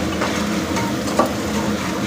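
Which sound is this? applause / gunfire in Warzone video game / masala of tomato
masala of tomato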